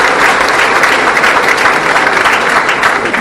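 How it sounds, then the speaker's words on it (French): An audience at an agriculture forum claps loudly and steadily, a dense wash of many hands that holds its level throughout and has no voices on top. "Et ça doit s'applaudir parce que c'est important qu'on arrive à le faire"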